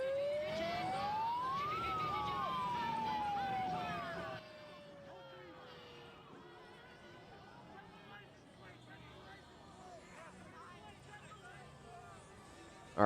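A police siren wails faintly at a street protest in Minnesota, rising and falling once, with people talking throughout.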